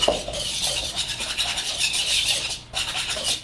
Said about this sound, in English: So I'm gonna whisk those together.